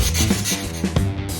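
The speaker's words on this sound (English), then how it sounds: "Last thing we need to do is go ahead and sand this down." Sandpaper scrapes over dried spackling patched across a nail pop in a wall, giving a few quick, close back-and-forth rasping strokes in rough rhythm.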